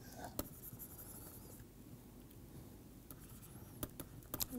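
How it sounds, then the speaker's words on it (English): Pen or marker writing on a board during an engineering lecture on constitutive equations, a soft continuous scratching patter with a few sharper taps, quiet and close, no talk. "Okay, so, I am writing it down here,"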